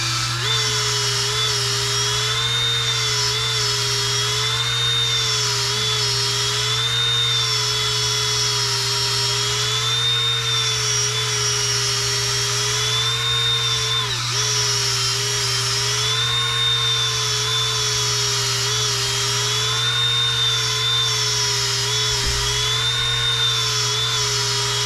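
A power tool reams a cork grip to fit a fishing rod blank, holding a steady, loud high-pitched whine with a low motor hum beneath, unbroken and close for the whole stretch with only slight wavering.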